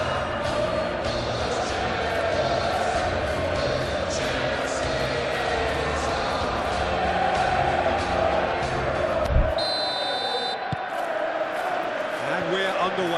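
Stadium crowd at a Chelsea vs PSG Champions League match in PES 21, a dense steady roar filling the stands under commentary, cutting away abruptly near the end.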